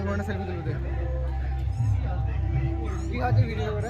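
A cat meows a few times amid a busy fair crowd of chatter and voices, the calls short and moderately loud.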